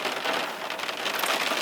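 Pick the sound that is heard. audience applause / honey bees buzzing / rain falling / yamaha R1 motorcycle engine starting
rain falling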